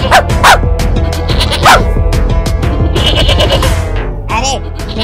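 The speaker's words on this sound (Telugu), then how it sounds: "ఆ పొద చుట్టూ కుక్కలు తిరుగుతున్నారా" Several dogs bark repeatedly and loudly around a bush where a wild sheep is hiding, with overlapping yelps and background music in a comedy scene.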